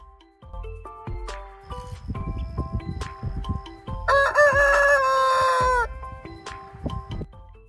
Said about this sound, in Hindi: ये है मुर्गी।